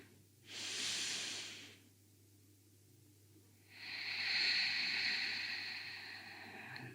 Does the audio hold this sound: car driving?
no